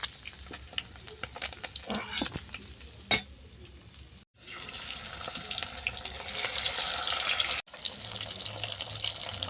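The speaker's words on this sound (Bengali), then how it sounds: "আর বাকি যে দুটো মাছ আছে আমি একইভাবে ভেজে নেব।" Parshe fish frying in hot oil in a pan, a steady crackling sizzle with brief louder bursts, close and continuous, broken by two short silent gaps.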